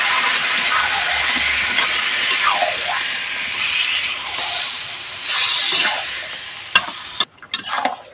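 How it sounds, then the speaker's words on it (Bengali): Chicken sukka masala being stirred in a pan, village style, with marinated meat scraping and sizzling steadily against the metal, broad continuous stirring noise close up, no talking. "দিয়ে নাড়াচাড়া দিয়ে নেবো"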